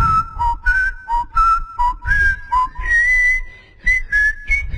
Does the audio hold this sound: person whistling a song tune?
yes